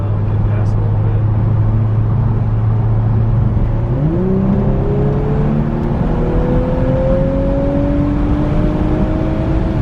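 A car engine heard from inside a new car under acceleration: a steady low hum, then a rising whine as the revs climb and hold, with constant wind and road noise.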